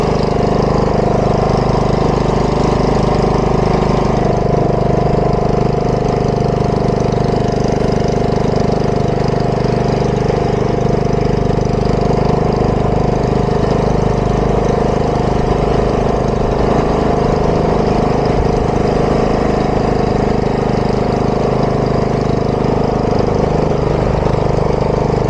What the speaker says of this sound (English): let's put the tractor away.